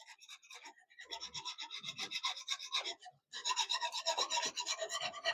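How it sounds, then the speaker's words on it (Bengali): A whisk stirs milk with milk powder and cornflour in quick, rhythmic scraping strokes close up, pausing briefly before continuing even faster. "ভালো করে এবারে হুইক্সের সাহায্যে মিশিয়ে নেব"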